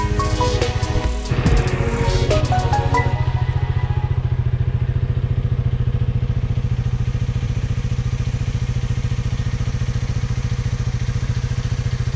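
Motorcycle fitted with a stock manifold pipe runs steadily at a close, loud idle, its even mechanical thrum holding throughout with a brief clattery rise near the start and no talking.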